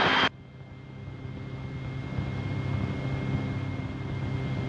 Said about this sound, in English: Rotorway helicopter about a mile south of this strip at 200 feet